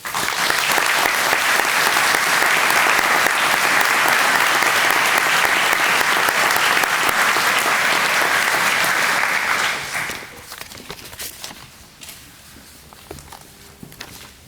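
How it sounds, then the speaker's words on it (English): Sustained audience applause fills a fire department awards ceremony for about ten seconds, then drops off to scattered claps and quiet room noise. "Please join me in a round of applause for these gentlemen."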